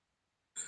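A man's sneeze, one short sharp burst that comes suddenly after near silence, close and loud, in a casual greeting between friends.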